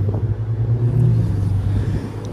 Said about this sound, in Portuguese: Olha o Bentley vindo.